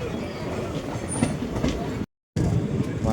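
A train on the Tirupati to Arunachalam (Tiruvannamalai) run rumbles along steadily with a broad, continuous roar and faint rhythmic wheel noise, cut by a brief dropout.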